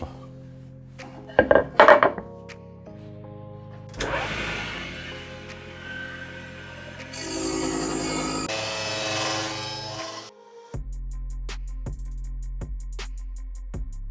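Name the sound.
router cutting wood with straight bit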